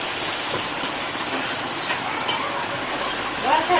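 Onion, chili and oil frying in a pan in a home kitchen, a steady close hiss and sizzle with faint stirring scrapes, continuous throughout without talk.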